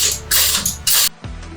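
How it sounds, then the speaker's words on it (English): Ratchet on the frame bolts of a Yamaha YZF-R3 motorcycle, heard as two bursts of rapid clicking close by, then a brief pause and a softer stretch of turning. "Using a regular ratchet, you can use a slightly longer one if for any reason the bolt is too tight."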